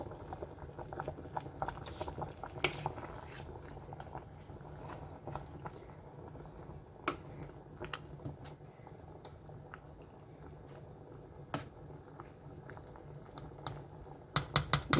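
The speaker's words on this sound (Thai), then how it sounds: "เดือดแล้ว" Bamboo shoot curry boiling in a pot, a faint steady bubbling with scattered small pops and clicks throughout, quiet and close.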